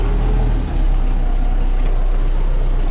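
An MTZ-892.2 tractor plowing garden plots with a PLN-3-35 plow, its diesel engine droning loud, steady and close with a brief dip, no talk.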